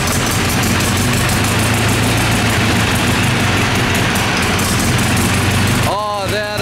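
A rebuilt diesel farm tractor engine runs loud and close with a steady, knocking idle, then cuts off abruptly near the end.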